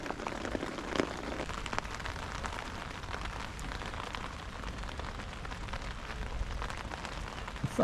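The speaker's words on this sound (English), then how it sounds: "So since this rain's come on" Rain patters steadily on surfaces around an outdoor fishing spot, a dense, even wash of drops with occasional louder taps nearby and no talk.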